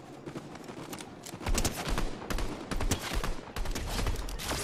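Rapid automatic gunfire in a Fortnite match crackles in dense volleys that grow louder about halfway through and keep going almost without a break.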